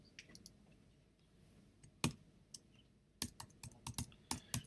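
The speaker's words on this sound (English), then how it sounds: "And I'm going to type in director." Several sharp clicks on a computer keyboard, one isolated keystroke followed by a quick burst of typing, fairly faint and close, with no voices.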